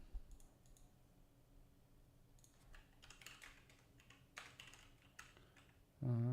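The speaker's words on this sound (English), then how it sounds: "Oh, this keyboard is driving me insane." Scattered keystrokes on a computer keyboard during a web-design work session, faint and close, clicking in irregular bursts before a louder sound cuts in at the very end.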